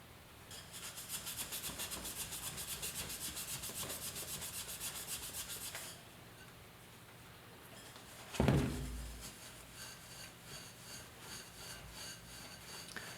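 Hand polishing rust off the chrome wheel of a 1974 Yamaha RS100 motorcycle gives a steady, close rubbing rasp that stops partway through, followed by a brief sharp knock and quieter scattered handling noises.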